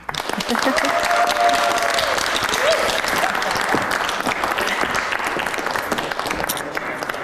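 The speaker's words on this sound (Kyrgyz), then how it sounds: "Анда бул кол чабуулар силер үчүн." Sustained applause from a studio audience at a televised dating show, steady clapping that carries through the whole stretch with brief voices mixed in.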